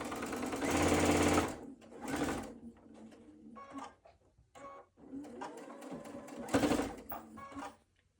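A sewing machine stitching quilt seams for a LeMoyne star block, in short bursts of rapid whirring separated by quiet pauses, close and moderately loud.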